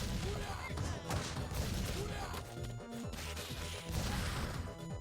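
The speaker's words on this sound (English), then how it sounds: "they're going to be throwing bombs at us the whole time" Bikers' bombs exploding in Streets of Rage 4, several sharp crashes and blasts in quick succession over busy, dense game sound, loud and close.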